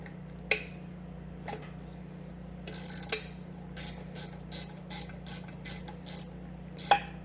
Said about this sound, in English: Up here, I need 9/16 inch wrench. So righty tighty, lefty loosey